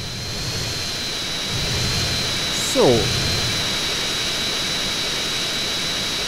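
The Hydra jet in GTA San Andreas roars steadily as its engine nozzles are repositioned, a loud, constant turbine whine with a brief swooping shift midway; a voice speaks once.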